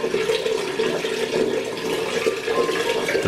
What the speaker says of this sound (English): The flow of the hot water is smooth here.